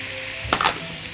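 Tomato sauce poured onto meatballs sizzling in a pan, a steady frying hiss broken by a quick double burst of sharper spattering and clinks midway, close and alone.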